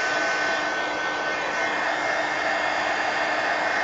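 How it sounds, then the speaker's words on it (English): A hair dryer blows steadily over an art journal page painted with indigo paint, giving a continuous, even, close whooshing roar that holds without a break. "so let's dry this"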